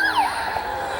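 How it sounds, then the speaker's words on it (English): A police car siren sound effect on a residential road gives a wailing tone that sweeps down and then holds steady, fairly loud over a light background hiss. "the sounds of tires screeching and police sirens"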